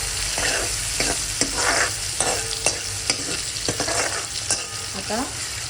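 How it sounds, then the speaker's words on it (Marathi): Finely chopped onions dropped into hot oil with reddened cumin seeds sizzle steadily, broken by repeated scrapes and clinks of a spoon stirring the pan, close and fairly loud with no talk. "आता आपण जे 2 बारीक कांदे कापले होते ते टाकते मी"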